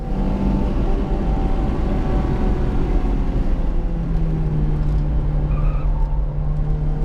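A Toyota Corolla T Sport on a race track, oversteering with cold rear tires, makes a steady, loud engine drone and road roar with a sustained mid-pitched tone, continuous throughout with no talk.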